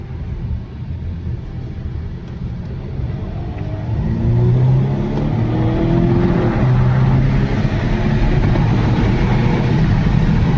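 A Volvo V60 Cross Country wagon rolls through an egg-shaped roundabout and heads uphill, its engine humming low and steady inside the cabin, then rising in a gentle, sustained pull as it accelerates.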